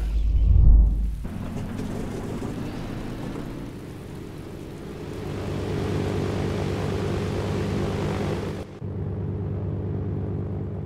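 A large green airplane's engine drones during takeoff in the video game Arma 2 DayZ. A low, steady hum swells after a brief thump, cuts out abruptly near the end and resumes more quietly.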